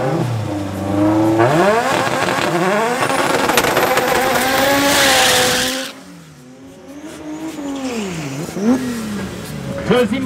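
Drag racing cars launching at Midvaal Raceway: loud engines rev and climb through gear changes with turbo whine and tyre noise, then fade into distant engine drone as a crowd murmurs.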